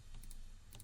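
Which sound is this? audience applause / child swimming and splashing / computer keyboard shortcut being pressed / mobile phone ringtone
computer keyboard shortcut being pressed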